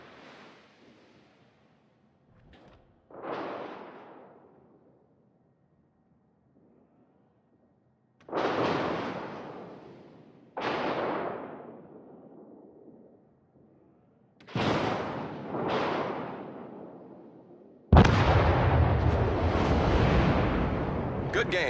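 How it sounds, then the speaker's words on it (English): Heavy naval gunfire from warships in the video game World of Warships, several loud booming salvos rolling out with long decaying rumbles at irregular intervals, ending in a sustained roaring barrage. "Concentrate fire on the enemy warship."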